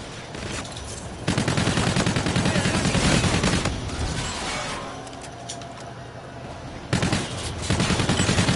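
Rapid gunfire in a Call of Duty match, dense repeated shots close and loud, easing briefly in the middle then resuming in a sharp burst near the end, with little talk over it.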